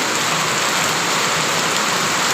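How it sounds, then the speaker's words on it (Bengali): Heavy monsoon rain pours down on Sandwip island in rural Bangladesh, a dense, steady, loud wash of rainfall that continues unbroken with no voices. "সন্দ্বীপে এই মুহূর্তে প্রচুর বৃষ্টি"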